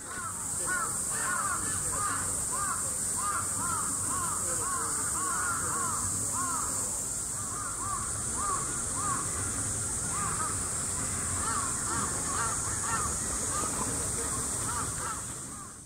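Crows cawing in Japan, a steady series of harsh repeated caws over a continuous high insect-like drone and outdoor background noise, with a faint voice partly underneath.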